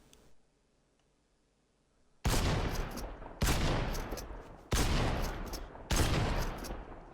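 An assault rifle fires while aiming down sights in Fortnite: after a couple of seconds of near silence come four loud bursts of rapid automatic fire, each about a second long, separated by short gaps.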